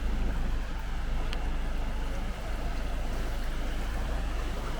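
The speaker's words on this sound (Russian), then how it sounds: "Через аутлет протекает такая бурная речка." A turbulent mountain river runs beneath buildings at an outlet mall, producing a loud, continuous roar with a deep rumble, steady throughout and free of talk.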